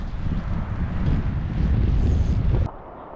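Strong gusting wind buffets the microphone while fly fishing on a winter stillwater, a dense low roar that stays loud and steady before dropping off abruptly near the end.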